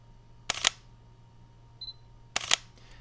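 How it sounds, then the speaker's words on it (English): Two mechanical shutter releases from a Sony Alpha A7 full-frame camera, each a crisp double clack, about two seconds apart, with a faint short electronic beep between them in a quiet room. "The shutter noise, I really don't consider to be an issue"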